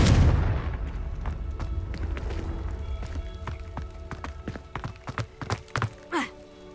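A Confringo blast from Hogwarts Legacy opens with a heavy boom that fades into a low rumble, followed by a string of sharp thuds and knocks toward the end.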